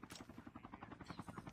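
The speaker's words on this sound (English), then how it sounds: "Shoot the chopper, guys." A helicopter in the video game Call of Duty Mobile churns overhead, its rotor beating in a fast, steady rhythm, faint and continuous throughout.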